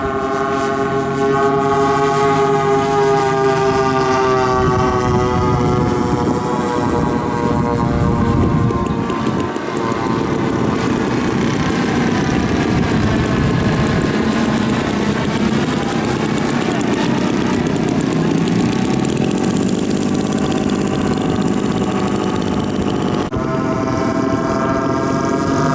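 Radial piston engines of a DC-3/C-47 propeller airliner drone loudly and steadily at an air show, a continuous close rumble with rising and falling harmonic tones as the aircraft passes.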